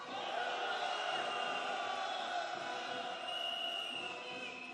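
A large street crowd roars and shouts together at a candlelight rally and march calling for Yoon Suk-yeol's impeachment near Hongdae, a dense, sustained wall of voices that holds steady throughout.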